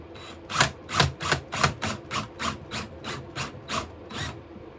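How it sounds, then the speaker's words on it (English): Screws turned in by hand with a screwdriver make a rhythmic series of about a dozen rasping, scraping twists, close and fairly quiet, with no talking. "I think I better screw these in by hand."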